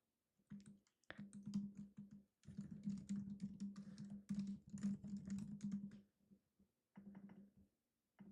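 Bursts of computer keyboard typing while a subheading is entered in a Canva text box for a magazine cover, close and crisp, with short pauses between runs of keystrokes.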